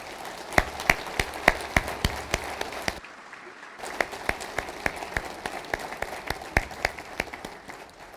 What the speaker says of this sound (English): Let's remember Dr. Carter with a warm round of applause for all he gave this university.